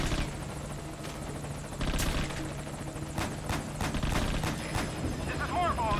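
A helicopter in the video game Metal Gear Solid: Ground Zeroes drones steadily under gunfire, explosions and impacts, taking damage during combat.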